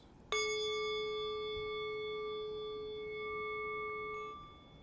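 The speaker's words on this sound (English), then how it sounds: "The bell sounds something like" A meditation bell used to open and close sitting periods, struck once in a quiet room: a sharp, clear strike followed by a long, pure ringing tone that sustains evenly and fades away after about four seconds.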